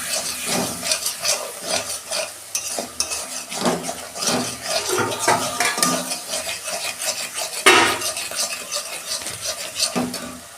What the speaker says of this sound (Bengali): আমি ভালো করে কষাবো, কাঁচা গন্ধটা যত চলে যায়।